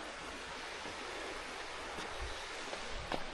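The Ribeirão Cardoso, a stream in Nova Lima, Brazil, flows with a soft, even rush of running water, fairly quiet and continuous, with a couple of small splashes near the end.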